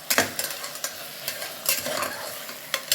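A brinjal chutney mixture being stirred in a pan, with a spoon scraping and tapping in short irregular strokes over a soft, steady sizzle, close and fairly quiet, no voices.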